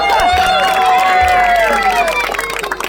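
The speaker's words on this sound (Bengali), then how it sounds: "এবার জোরে হাততালি।" A crowd at a prize-giving ceremony after a local match breaks into loud applause and cheering, with shouting voices over the clapping throughout.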